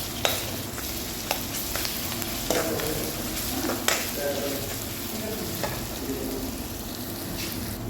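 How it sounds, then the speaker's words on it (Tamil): Onions sauté with ginger and garlic in a pan, giving a steady moderate sizzle with occasional spoon scrapes and taps, close and without speech. "பொன்னிறமாக வதங்கிட்டு இப்போ இஞ்சி பூண்டு சேர்த்துருக்காங்க"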